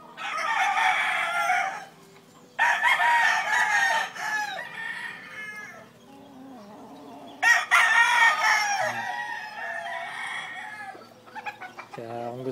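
Gamefowl rooster of battle breeding stock crowing loudly and close in three long calls, with clucking and farmyard noise in the gaps and a brief voice near the end.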